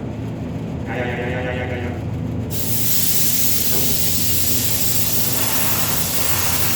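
An air blower shoots a loud, steady rush of compressed air over the firewall of a 1930 Ford, cutting in after a quieter start and hissing continuously close by.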